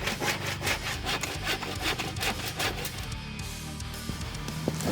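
A hand saw cuts through wood for a homemade monitor stand, with rhythmic back-and-forth rasping strokes close by. The strokes slow and fade toward the end.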